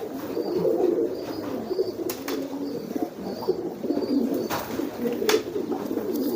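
Young squab pigeon cooing softly in a loft, low burbling calls repeating close by with faint chirps and light rustling, no talking.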